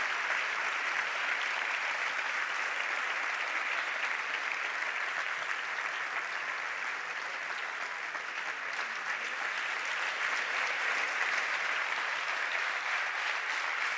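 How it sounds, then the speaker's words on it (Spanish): Sustained applause at a sports awards gala honoring international cyclist Josune Murillo, a steady wash of clapping from a large audience, fairly distant and even throughout. "Fuerte aplauso para esta referente del ciclismo internacional."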